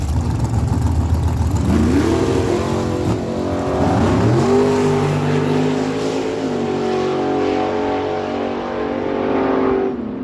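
A 1970 Chevy Camaro and a Race Tech dragster launch side by side on a drag strip at Miramichi Dragway, engines roaring loud and close with pitch climbing through hard revs, then holding a sustained high drone.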